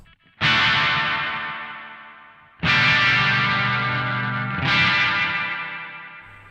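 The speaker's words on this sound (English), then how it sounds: "you can hear that reverb is actually holding those distortion notes open for longer" Electric guitar with reverb run into overdrive on an Analog Alien Rumble Seat pedal, heard as three loud distorted chords. Each one rings out and decays slowly with a lingering wash of sustain, and there is no talk.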